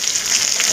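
Chopped onions sizzle hard in a hot frying pan, a dense and steady crackling hiss that stays loud and close throughout, with no voices.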